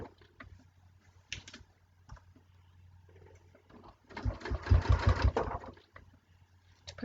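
A sewing machine stitches down quilt binding with a brief one-second run close by after light handling clicks and rustles, loud against otherwise quiet surroundings.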